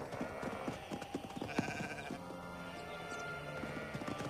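Sheep in a children's cartoon bleat several times over music, a few short wavering calls spaced apart, with faint hoof-like taps in the background.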